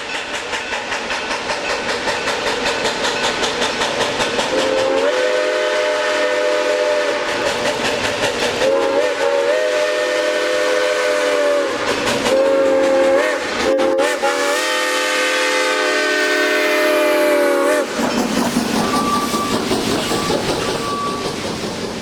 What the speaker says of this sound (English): the train begins ascending the grade as it makes its way around the horseshoe curve.